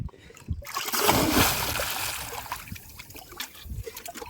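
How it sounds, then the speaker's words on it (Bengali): A person dives into water to catch fish, the plunge giving a loud broadband splash that churns on for a couple of seconds, followed by softer trickling and dribbling water nearby. "লম্বা ডুব মেরে দিছে"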